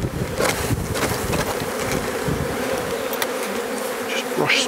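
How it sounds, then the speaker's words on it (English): A dense swarm of honeybees buzzes continuously and close by as they are shaken off a box, with a few individual bees droning louder as they pass near. "So I'll just stand up and shake these bees off."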